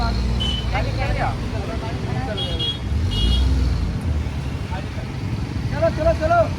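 A car pulling out into road traffic, with steady engine and roadway rumble throughout and a few horn-like tones, while people talk over the noise.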